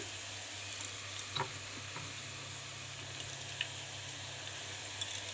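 Chopped onion frying with potatoes in a pan on an induction cooktop, a steady soft sizzle with a low hum underneath and a few faint clicks of stirring.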